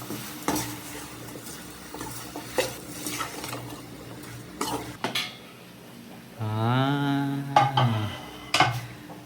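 A spoon stirring spiced mushroom chicken biryani in a pot in a village setting, with repeated scraping clanks against the metal and a soft sizzle beneath, plus a drawn-out animal-like call in the middle.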